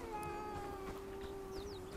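Cat meowing in the medieval open-world game Bellwright, a kitten in a village heard as a couple of clear, rising mews over steady ambient game sound and music, moderately close, with no talk.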